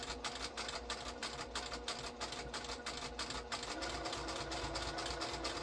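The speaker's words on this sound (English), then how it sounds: "And then just stitch all the way around." A sewing machine runs continuously as it stitches around the curves of a pumpkin potholder quilt, a steady, moderately quiet rhythmic whir and chatter with no pauses or voices.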